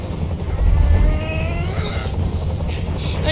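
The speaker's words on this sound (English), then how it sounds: "Tell that helicopter to get out of here." Helicopter hovering close by in the video game Detroit: Become Human, a heavy, continuous rotor rumble that stays steady and loud throughout, with faint voices underneath.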